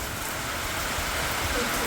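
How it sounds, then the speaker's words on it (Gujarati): Steady, dense hiss of heavy rain pouring down without a break, loud and close throughout. "ઓચિંતાનો હે ને વરસાદ ફૂલ ચાલુ થઈ ગયો"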